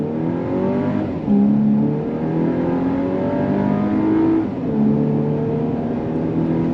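A 2024 VW Atlas Peak Edition SUV with an 8-speed automatic and 4Motion all-wheel drive pulls away hard from a dead stop, its engine note rising steadily, dipping at a gear shift, then climbing again, loud and continuous with no talk.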